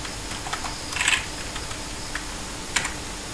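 Typing on a computer keyboard: scattered light key clicks with a brief burst of quick taps, then a lone sharper click, close and quiet over faint room hiss, no talking.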